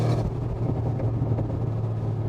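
A Brabus G700, a 700-horsepower tuned Mercedes-AMG G63 G-Class, rumbles with a steady, deep engine drone close by, loud and continuous without speech.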